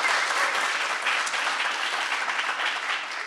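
A graduating capstone cohort applauds at a closing ceremony, a thick, even roar of many hands clapping at once, sustained and moderately loud throughout the short stretch.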